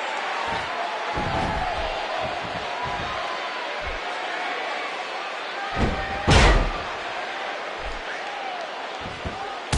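Wrestling arena crowd in WWE 2K15, a steady loud roar throughout, with a sharp slam or impact thud near the middle and scattered thumps.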